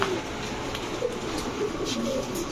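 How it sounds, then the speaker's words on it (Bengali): A pair of Beji-neck pigeons, racer and high-flyer birds sold cheaply by a street vendor, coo softly in low, rolling murmurs over a steady noisy background. "এটা হচ্ছে একটা জোড়া বেজি গলা কবুতর।"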